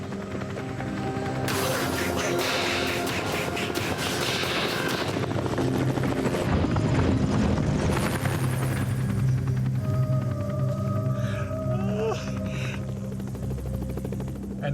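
A helicopter in a desert slot canyon fills the air with a loud, continuous rotor whop and engine roar that persists throughout, mixed with rustling noise.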